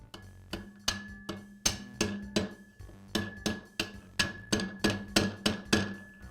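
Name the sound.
socket tapped to press new wheel bearing into band saw wheel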